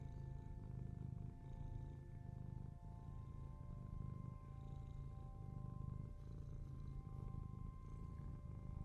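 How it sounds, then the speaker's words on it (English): A cat purrs steadily and close up, a low continuous rumble with a soft rhythmic pulse and no other sounds. "I feel like cat purrs would put me right to sleep."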